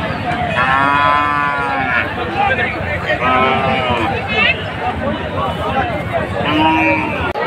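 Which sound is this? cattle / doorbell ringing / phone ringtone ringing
cattle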